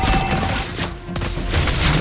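Gunfire from the sniper hero Lesley in a mobile battle arena video game sounds as a loud burst of sharp shots and booms, dense and close, with game effects layered in.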